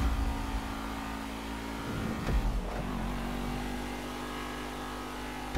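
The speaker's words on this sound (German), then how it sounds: "Fährt rückwärts der Typ." A car in GTA V Online runs its engine in a steady mid-pitched hum. The drone holds level, with a brief surge partway through.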